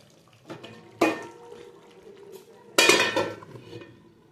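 A metal lid set onto a pot of Bengali-style chicken curry: a soft knock, then two sharp, close clanks of metal on metal about two seconds apart, each ringing briefly before fading into quiet.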